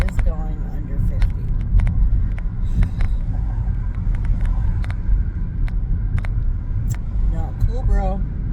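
Interior drone of a Honda car driving on a road at under 50, a steady low rumble with a few clicks, as people talk over it.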